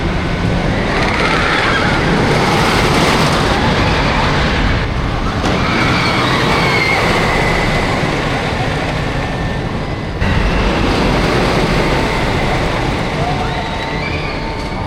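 Wicker Man wooden roller coaster at Alton Towers roaring continuously, a loud, dense rumble of wheels on track with wind and rider noise, briefly dipping around the middle before surging back.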